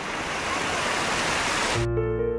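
Mainit Falls in Maco, Davao de Oro, roars as a continuous broadband rush of falling water, steady and fairly close, cutting off abruptly near the end.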